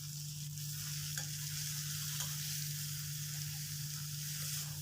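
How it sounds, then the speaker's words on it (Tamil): Tomatoes being sautéed in a pan for coconut chutney, with a dense, steady sizzle and a few soft stirring scrapes, close and continuous with no voices. "தக்காளி நல்லா வதங்கணுங்க"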